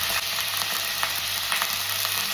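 Mutton pieces frying in hot oil with bay leaves and a piece of cinnamon, giving a steady, close sizzle that runs evenly throughout with faint crackles, no voices.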